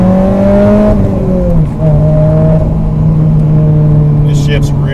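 A car with a new Competition Clutch 8090-ST clutch kit and flywheel on a K-series engine pulls away smoothly, its steady close engine drone dipping in pitch once midway, then holding level.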